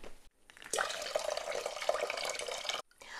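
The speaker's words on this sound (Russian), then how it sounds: "И буду сливать воду." Hot water is drained from glass jars of cucumbers and tomatoes, a quiet steady pouring stream lasting about two seconds between brief silences.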